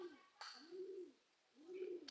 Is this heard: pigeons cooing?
yes